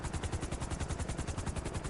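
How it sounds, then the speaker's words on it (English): A helicopter in the video game GTA 5 comes in to land on a house, its rotor chopping in a steady rapid thump with a loud continuous engine whine, close and alone. "I'm sure they don't mind if a helicopter lands on top of their home."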